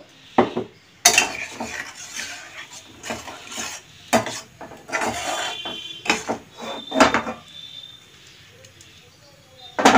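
A metal cooking pot with potatoes and soya chunks cooked in spices, clattered and scraped with a spoon in irregular bursts of knocks and clinks as water is added and stirred.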